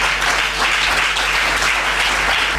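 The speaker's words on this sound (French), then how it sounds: "Est-ce qu'on peut acclamer notre Dieu?" Church congregation applauding and cheering for God at a Feast of Tabernacles service, a steady, dense wash of clapping and crowd noise that fills the whole stretch without a break.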